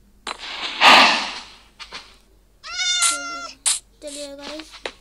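Several high, tonal cat meows from a farming and crafting video game, loud and close, coming in short separate calls, with a burst of noise before them and a voice talking over part of the clip.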